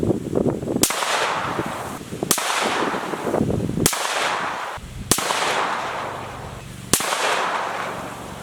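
Five loud, sharp gunshots fire a five-round group while zeroing a red dot sight with a magnifier, spaced at irregular intervals of one to two seconds over steady outdoor background noise, close and with no talking.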